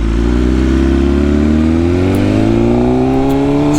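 A 2025 BMW S1000RR motorcycle revs loudly and close by, its engine note rising steadily as the bike accelerates, with no talking over it.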